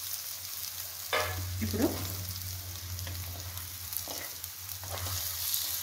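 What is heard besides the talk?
boiled egg halves frying in pan for egg curry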